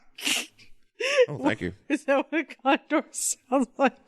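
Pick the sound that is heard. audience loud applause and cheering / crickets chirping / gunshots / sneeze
sneeze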